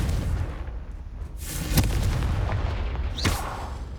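In Hogwarts Legacy, the Confringo fire spell lands as booming blasts over a rumbling game background. Two sharp bursts ring out close and loud, each with a short crackling tail.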